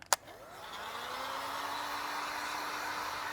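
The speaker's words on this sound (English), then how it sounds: "So I got a heat gun. You want to have it at pretty high heat." After a sharp click, a heat gun set to high heat starts up and settles into a steady, close blowing whoosh with a rising whine while warming vinyl wrap on a Cybertruck door sill.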